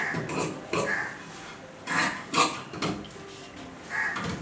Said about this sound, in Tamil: இப்போ நெக்லைன் கட் பண்ண போகிறேன்.